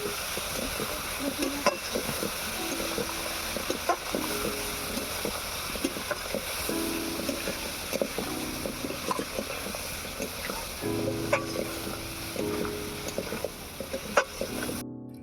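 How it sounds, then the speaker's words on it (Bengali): Spiced potatoes being sautéed in a pan with a splash of water for a Bengali potol aloo fish curry give off a steady, continuous sizzle with soft stirring clatter throughout, close and moderately quiet. "এবারে ভালো করে কষিয়ে নেব অল্প একটু জল দিয়ে, যাতে না মশলাটা পুড়ে যায়।"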